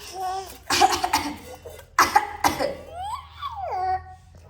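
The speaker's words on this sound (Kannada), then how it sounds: "ಎಲ್ಲರೂ ಕೆಮ್ತಾಯಿನಿ" Several close, loud coughs burst out in quick succession, mixed with playful vocal sounds from a baby boy.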